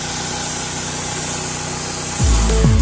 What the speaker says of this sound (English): a spray rig is faster and more even